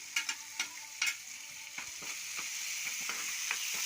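Chopped onions hit hot oil after a tempering, giving a close, steady sizzle with several sharp spatula clicks and scrapes in the first seconds, then a continuous frying hiss alone.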